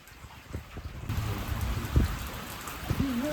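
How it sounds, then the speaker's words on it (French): Steady rain pours during an intense thunderstorm in Corrèze, France, with low rolling rumbles of thunder swelling under the downpour and a sharper crack near the middle. "Les amis, en plein orage."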